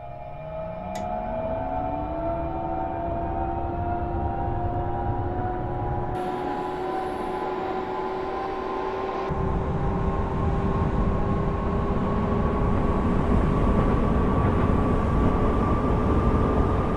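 A Bombardier Talent 2 electric train in Train Sim World simulation, its motor whine climbing steadily in pitch as it accelerates, with a continuous loud rolling drone and no talk.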